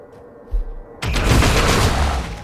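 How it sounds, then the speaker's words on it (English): A loud explosion booms in the Warhammer 40k: Deathwatch video game during a Tyranid invasion, a short thump followed by a sustained roaring, crackling blast that fills the foreground. "Explosion. Luckily, did not really cause any harm."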